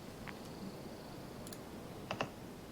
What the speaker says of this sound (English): You're clicking.